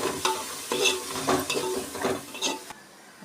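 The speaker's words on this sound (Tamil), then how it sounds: "இப்போ கிண்டி விட்டுக்கணும்" Curd being stirred into mushroom biryani in a hot pan, a ladle scraping in repeated strokes about every half second over a steady sizzle, close and moderately loud, with no voices.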